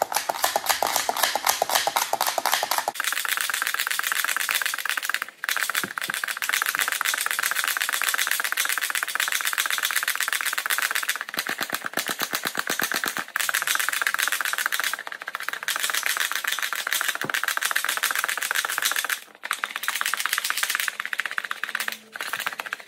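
A coffee sifter with a metal disk and 400 and 500 micron screens rattles in a fast, continuous clatter, close and sharp, with a few brief pauses along the way.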